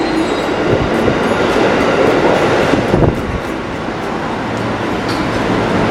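A train runs through MRT Dukuh Atas subway station in Jakarta, a loud steady rumble with rattling wheel noise and a brief squeal midway, heard close and continuous throughout.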